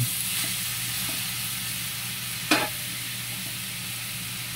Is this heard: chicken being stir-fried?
yes